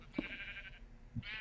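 Sheep in a Minecraft sheep farm give two short bleats about a second apart, close and fairly clear, each a nasal wavering cry, with no talking.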